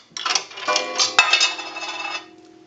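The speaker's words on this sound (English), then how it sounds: "we'll go ahead and start out with a quarter, and that will gong one time." A quarter dropped into an Automatic Electric three-slot payphone strikes its gong once, a close, bright metallic clang with slight coin clatter that rings on and fades over about two seconds.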